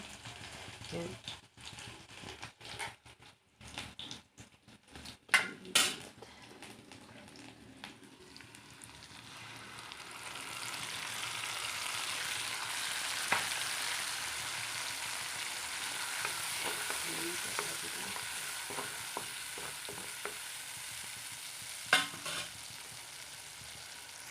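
Fish paste with narasingha leaves frying in a pan makes a soft, steady sizzle that builds midway, preceded by scraping and stirring clatter at the start.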